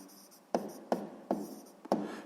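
A pen writing in a notebook during a sixth-grade maths exercise, four short distinct scratchy strokes at a steady rhythm, close and fairly quiet.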